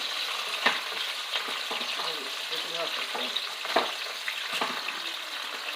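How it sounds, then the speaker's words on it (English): Onions frying in a pan on lowered heat for an egg stew, giving a soft, steady sizzle with occasional light scrapes and clicks of a utensil, fairly quiet throughout. "I'm noticing that my onions are starting to get a little bit brown"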